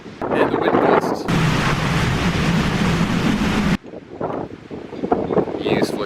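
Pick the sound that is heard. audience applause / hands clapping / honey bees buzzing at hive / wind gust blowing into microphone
wind gust blowing into microphone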